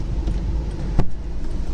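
A 2012 Volkswagen Polo TDI Comfortline diesel hatchback on the move, giving a steady low rumble of engine and road noise heard from inside, with one brief bump partway through.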